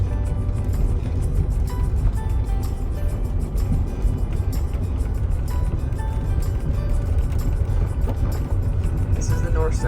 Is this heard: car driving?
yes